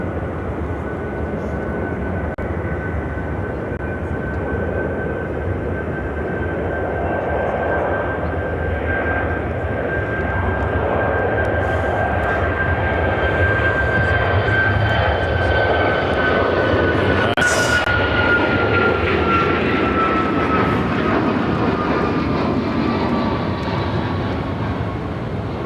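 A cargo jet arriving at Chicago O'Hare airport roars steadily, a broad continuous engine rumble with a whining tone that slowly shifts in pitch, holding loud and close for the whole stretch with no talking.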